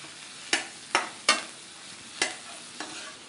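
Onions fry in a pan, with several crisp scraping stir strokes standing out over a faint background sizzle.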